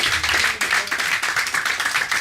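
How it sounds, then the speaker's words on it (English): Audience clapping at a live cinema event in Margate, a steady, dense burst of applause lasting a couple of seconds, close and continuous with no voices over it. "Another round of applause for Joe"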